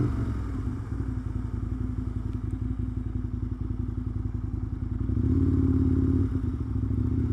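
An Aprilia RSV 1000 10th Anniversary Edition motorcycle rides through town past roadworks in a high gear, its engine a steady, close rumble with a rise in revs near the end and no voices.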